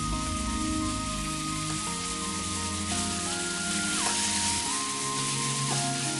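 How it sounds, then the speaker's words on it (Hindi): Cabbage pakoras frying in hot oil over a medium flame, a steady, dense sizzle and crackle that holds even throughout, with no talking. "तेल गरम होने के बाद इसको मीडियम फ्लेम पे पकोड़ों को फ्राई करने के लिए छोड़ देंगे"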